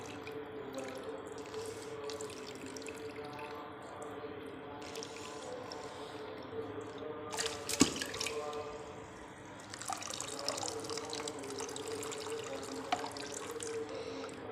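Water splashes and sloshes close by as tie-dyed cloth is lowered into a basin of water, with steady running-water noise throughout and a louder splash midway.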